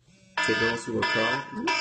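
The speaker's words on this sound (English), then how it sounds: "that's my alarm." A phone snooze alarm goes off, a steady repeating electronic tone that starts abruptly and continues loudly for over a second, with a person speaking just before it.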